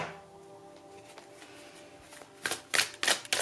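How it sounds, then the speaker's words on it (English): A deck of tarot cards handled quietly at first, then riffled in a few quick, crisp bursts of fluttering card edges close by, with no talking. "shuffling this one more time"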